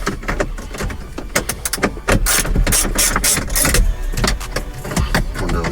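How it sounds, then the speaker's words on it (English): Ratchet with an extension and 10mm socket turning screws out inside a Lexus IS300 dash, a loud, close, rapid clicking and whirring of the mechanism that runs nearly continuously. "Okay, so ratchet, extension, 10mm socket."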